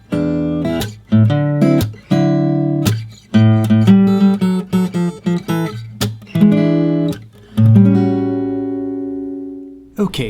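A blues guitar turnaround played at full speed on a clean electric guitar, a brisk run of plucked notes and ringing chords with a short pause before the final sustained chord, played alone.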